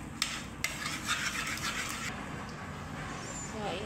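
A spoon stirring custard into a bread pudding mixture in a bowl, a soft continuous scraping and swishing with two small clinks against the bowl near the start, low and close.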